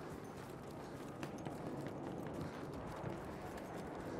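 Horse hooves gallop in a Battlefield 1 battle, a faint, rapid clip-clop drumming that runs throughout beneath a dense, noisy wash of game sound.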